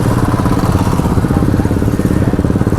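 A Royal Enfield Himalayan BS6 motorcycle rides along, its engine a steady, continuous rumble close to the microphone, with a dense mechanical clatter running throughout and no talk.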